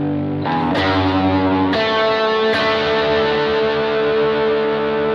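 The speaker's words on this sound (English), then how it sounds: "bringing in the fuzzy reverb." Distorted electric guitar chords from a BOSS GT-1000 Core on mid gain with both pickups ring out through a fuzzy, washy reverb, with a few strums that sustain and slowly fade.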